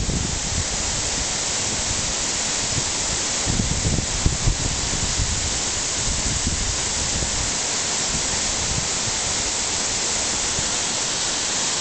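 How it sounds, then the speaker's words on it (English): The lowest tier of the Cascade du Ray-Pic waterfall in France roars as a loud, steady, broadband rush of falling water, unbroken and close, with no voices. "This is just the lowest tier of the waterfall there."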